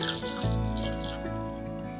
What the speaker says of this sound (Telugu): ఇందులో తగినంత వాటర్ వేసుకొని ఉడకబెట్టుకుందామండి